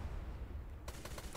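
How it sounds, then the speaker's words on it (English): Ship cannons firing in the pirate video game Blazing Sails, a rapid run of sharp, fairly faint booms in the second half after a low rumbling lead-in. "We can fire the left cannon now on the oncoming ship."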